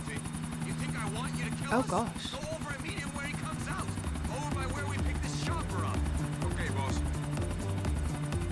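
A helicopter in the video game GTA IV whirs with a steady rhythmic rotor chop throughout, kept at an even level while someone talks over it.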